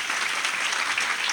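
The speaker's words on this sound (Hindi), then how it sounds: "आप ताली बजा सकते हो" An audience claps together at a Gurupurnima Mahotsav gathering at Shree Sadgurudham, Barumal, producing a loud, dense burst of applause that stays steady for its short length.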